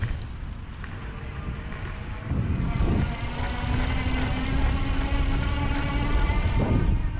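Electric hub motor of an EG Kyoto 350 e-bike running on throttle across grass at around 15 mph, a steady faint whine rising under continuous rolling and wind noise, with bumps around the midpoint and near the end.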